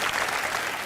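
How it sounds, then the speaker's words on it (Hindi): A studio audience on a Pakistani comedy talk show bursts into steady, dense applause, a continuous wash of clapping that stays loud throughout the short burst with no voices over it. "जमात के लिए तालियां होनी चाहिए"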